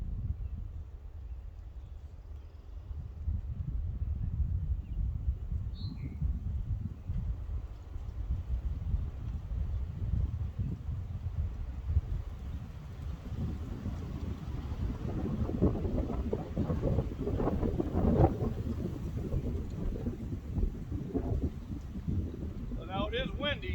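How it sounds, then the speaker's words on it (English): Wind gusts across an outdoor garden being prepared for planting, a continuous low rumbling buffet against the microphone that swells stronger toward the end, with no voices. "Now it is windy"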